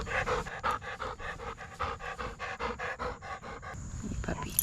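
A dog panting rapidly and steadily up close, a fast even rhythm of breathy huffs that continues for several seconds before easing off at the end.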